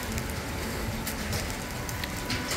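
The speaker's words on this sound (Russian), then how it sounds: "Решил поснимать и град пошел." Hail falling outdoors on a riverside promenade, a dense steady pattering of ice pellets hitting surfaces close by, with no talking.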